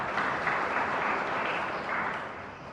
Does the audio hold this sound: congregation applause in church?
yes